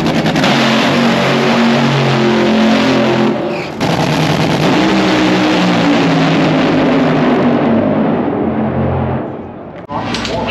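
A drag racing car sits at the starting line, its engine roaring loud and close in a sustained harsh rev that dips briefly and then fades near the end, with voices heard over it.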